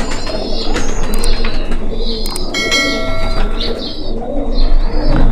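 Imported red-eyed pigeons, including a medium-sized kamagar male, coo and call steadily in a loft alongside other birds, with busy chirping and a constant low background murmur throughout.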